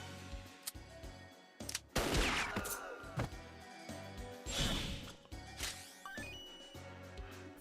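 Weapons fire in the Metal Slug Tactics video game, with several loud bursts of gunfire and impacts clustered around two and five seconds among busy game sound effects.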